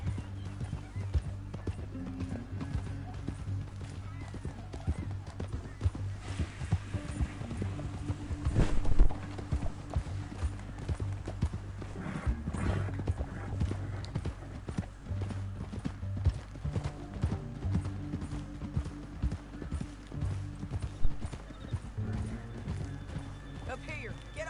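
Horses ridden in Red Dead Redemption 2, with steady rapid clip-clop hoofbeats running throughout, a few sharper thuds, and an occasional whinny. Voices murmur faintly underneath.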